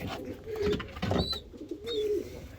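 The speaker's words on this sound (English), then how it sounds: "They're really beautiful little birds." Domestic pigeons with slate-coloured plumage coo softly nearby in two or three low, rolling phrases, with a brief higher chirp between them.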